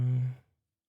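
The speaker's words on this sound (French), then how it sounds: "Pardon, je baille." A single short human yawn, a low voiced exhale that trails off quickly into silence, close and quiet.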